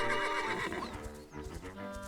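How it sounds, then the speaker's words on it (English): A horse in Zelda: Echoes of Wisdom gives a loud, clear whinny followed by a few soft hoof clip-clops, close and alone. "I'll grab my horse."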